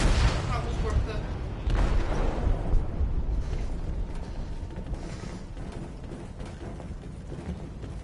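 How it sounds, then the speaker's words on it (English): An explosive goes off in a ship's hold in Detroit: Become Human, a heavy rumbling blast with clanking debris and mechanical rattling that slowly fades into a lower, sustained roar. "They detonated an explosive in the hold."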